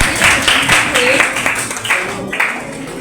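An audience claps at a Teachers' Day event at a government polytechnic college in Seoni, Madhya Pradesh, with dense, sustained applause filling the hall and voices mixed in.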